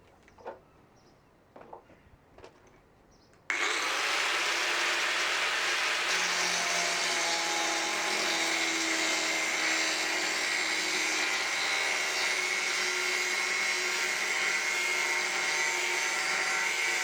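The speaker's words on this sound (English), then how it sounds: "start cutting out a new piece of plate to go over this" A power tool cuts a new steel plate patch for a Land Rover Discovery chassis, starting abruptly after a few soft knocks and then whining loudly and steadily, close and continuous.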